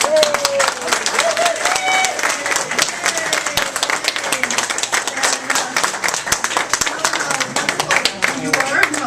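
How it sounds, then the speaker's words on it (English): A church congregation claps in a sustained round of applause, dense and close, while voices and a cheering or talking speaker carry over the top. "let's do a round of applause"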